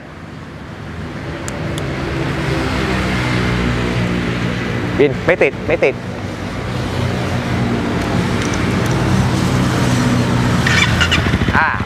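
A 2011 Honda CBR250 motorcycle with a real carbon Yoshimura-style aftermarket exhaust idles and revs, its engine rising and settling, with a few sharp blips and someone speaking briefly over it.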